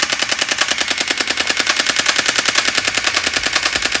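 An Uzi-style airsoft BB gun fires a long, steady full-auto burst outdoors, a loud rapid mechanical rattle of evenly spaced shots that runs unbroken throughout.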